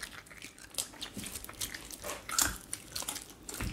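Crunchy bites into fresh farm garlic during a hands-only mukbang meal, a few close crisp crunches and chewing sounds scattered over a short stretch with no talk.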